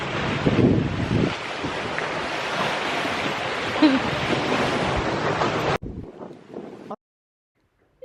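Wind and river waves by a boat on a river during a fishing trip, a steady roaring wash with buffeting wind on the microphone that cuts off abruptly near the end, followed by a brief quieter stretch and then silence.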